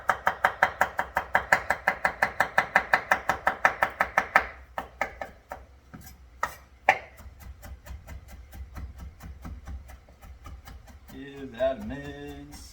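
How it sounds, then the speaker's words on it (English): A knife minces food on a board in a fast, regular run of loud close chops that slows and turns into scattered knocks and scrapes, followed by a brief voice near the end. "so let's mince this up."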